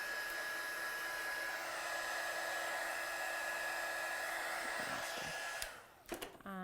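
A hair dryer blows steadily and loud on watercolour stamping work for nearly six seconds, then cuts off abruptly, leaving a few faint handling clicks.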